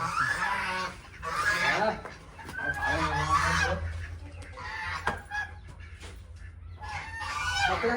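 Aseel chickens fighting nearby cluck and squawk loudly in repeated bursts, with a few honking cries mixed in and only brief pauses between outbursts.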